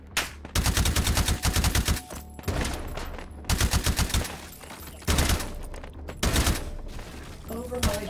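Sniper and automatic gunfire in the H3VR virtual reality game's modded Take & Hold mode, repeated loud bursts and single shots rattling across the whole stretch, with a voice talking intermittently underneath.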